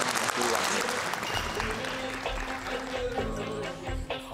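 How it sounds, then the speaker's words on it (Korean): Applause from a TV talk show studio audience, steady clapping with crowd noise and some voices mixed in throughout. "박수로 한번."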